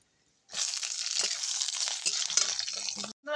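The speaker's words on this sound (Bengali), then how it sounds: "লাউ এখানে ভাজা হয়ে গেছে" Bottle gourd and mung dal frying in oil in a pan, a loud, close, continuous sizzle with stirring scrapes, starting abruptly and cutting off near the end.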